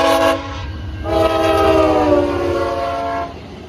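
A loud train horn blares in two blasts, a short one then a long sustained chord, from a K5CA horn over the low rumble of a nearby locomotive engine.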